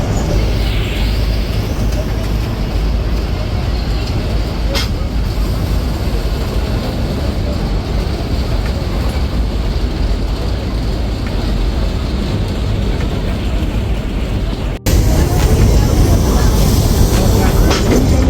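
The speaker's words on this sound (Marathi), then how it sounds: "माथेरानची जी रेल्वे आहे ना टॉय ट्रेन" Matheran toy train running on the narrow-gauge hill railway: a loud, steady rumble and rattle of the carriages heard from on board, continuous throughout, with a brief dip and a slightly louder roll near the end.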